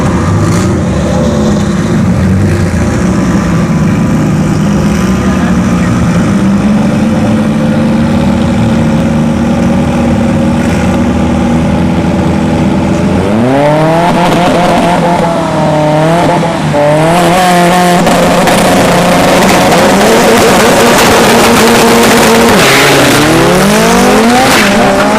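Two turbocharged Honda Civics drag racing at a dragstrip test-and-tune session: loud engines hold at the line, then both launch and scream through rising, stepped gear changes, very close and constant throughout.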